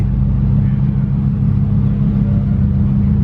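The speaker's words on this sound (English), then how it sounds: "We got another SVJ pulling in green." A green Lamborghini SVJ pulls into a car show, its engine a loud, close, steady low rumble that holds for a few seconds without speech.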